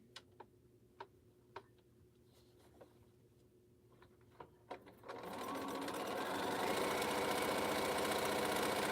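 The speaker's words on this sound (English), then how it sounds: "This needs to be sewed onto here." A sewing machine stitching a quilt block with half-square triangles: several separate clicks and taps at first, then the motor starts and runs in a steady, fast mechanical whir for the rest of the clip.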